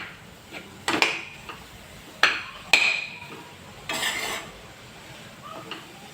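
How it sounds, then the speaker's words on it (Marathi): A spoon stirs melting jaggery in a pan for a modak filling, giving several sharp scrapes and knocks against the metal at uneven intervals, close and fairly loud, with quiet gaps between and no talking. "जोपर्यंत आपला पूर्ण गूळ वितळत नाही तोपर्यंत आपल्याला परतवून घ्यायचं आहे"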